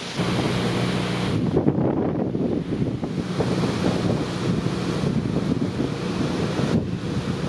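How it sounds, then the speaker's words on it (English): Strong wind on a dark, stormy evening outdoors buffets the microphone in continuous loud, rumbling gusts with no speech, a dull roaring turbulence filling the whole stretch. "Man, it's windy."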